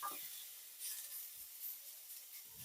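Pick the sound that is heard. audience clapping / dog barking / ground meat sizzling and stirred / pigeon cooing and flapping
ground meat sizzling and stirred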